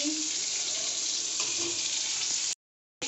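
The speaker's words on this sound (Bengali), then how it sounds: "এই যে পটল ভাজা করছি" Pointed gourd frying in hot oil, a continuous bright hissing sizzle held at an even level, with a brief silent gap before it resumes.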